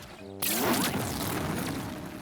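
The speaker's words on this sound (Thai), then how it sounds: "แต่ว่าจะเปลี่ยนเป็นระเบิดแทนนะฮะจะเป็นกลมๆไปแล้วระเบิด" A reworked tiger-fruit skill in Roblox Blox Fruits detonates with a sudden loud explosive burst, followed by a sustained crackling, rumbling roar that slowly eases off, with no voices.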